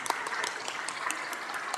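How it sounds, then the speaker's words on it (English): A small round of applause at a public works board meeting, quiet and somewhat distant, with light scattered clapping continuing steadily for a couple of seconds. "let's give a big round of applause"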